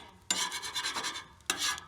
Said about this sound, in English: we'll scrape this clean,